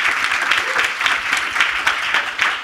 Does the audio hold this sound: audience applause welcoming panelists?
yes